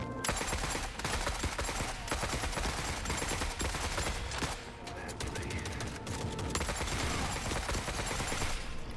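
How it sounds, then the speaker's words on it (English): Heavy, continuous gunfire from a battle in the video game The Forever Winter, with shotgun blasts among dense overlapping shots and explosions that keep going without a break. "Freaking shotguns."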